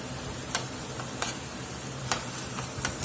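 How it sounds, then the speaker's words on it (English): Hamburger and onions sauté in a pan with a steady close sizzle, broken by four crisp spatula scrapes and taps spaced under a second apart. "Get them onions mixed in there and let them saute a little bit"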